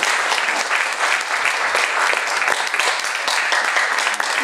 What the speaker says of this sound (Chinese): 替我们的林信医师哈来双手鼓掌哈